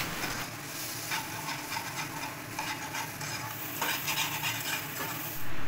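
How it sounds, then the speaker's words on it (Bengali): Turmeric and spices being stir-fried in a little oil in a pan, with a steady soft sizzle and scraping stirring strokes that continue throughout at close range. "এবার সামান্য হলুদ আর অল্প তেল দিয়ে দিব, ভালো মতো কষে নেব।"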